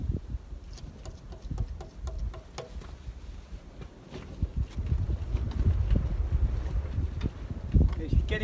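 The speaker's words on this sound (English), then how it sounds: "It's getting windy and it's really starting to shake the board around a bit." Wind blows outdoors at Walker Flat on the Murray River, buffeting the microphone and shaking a plein air painting board in uneven rumbling gusts with light knocks, growing stronger toward the end.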